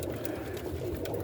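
Roller pigeon hens coo in a loft, soft low rolling coos close by over a dense murmur of birds.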